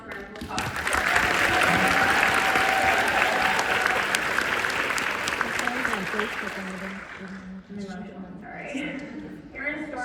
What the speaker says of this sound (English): Let's give her one last round of applause.